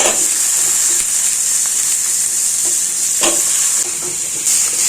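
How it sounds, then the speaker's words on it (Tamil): Brinjal and drumstick pieces sautéing in a hot pan for a South Indian kuzhambu, a loud, steady sizzle close up, punctuated by a few scraping stirs of a utensil, with no voices. "நல்லா வதக்கி வச்சுக்கலாம். நிமிஷம் வதங்கட்டும். 2 நிமிஷம் வதங்கினா போதும்."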